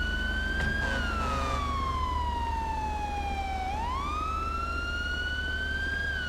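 A police car siren in GTA V wails continuously, its pitch sweeping slowly down then back up, loud and steady over a low engine rumble.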